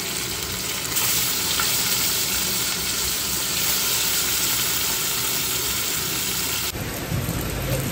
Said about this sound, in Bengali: কি জোরে বৃষ্টি হচ্ছে ঝামঝাম করে